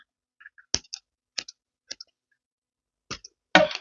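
Scissors snipping through paper or card while making an accordion journal, a handful of short, crisp, close clicks spaced apart, ending in a louder rustling cut.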